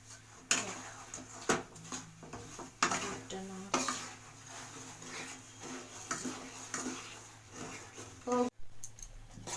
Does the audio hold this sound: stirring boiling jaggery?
yes